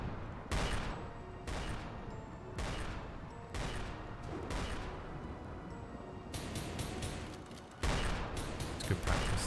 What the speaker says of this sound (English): Lux is truly terrible at hunting animals with an anti-material rifle.